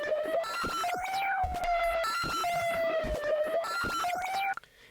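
A synth lead run through a ShaperBox effect in FL Studio for a rap beat: a bright, buzzy tone with pitch slides between notes and a pulsing, rhythmic chop, sustained throughout before cutting off abruptly near the end.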